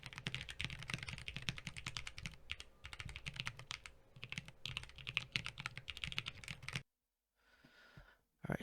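Steady, fast typing on a Corne split keyboard modded with shelf liner foam gives deep, muted clacks. A brief silence follows, then a few final keystrokes.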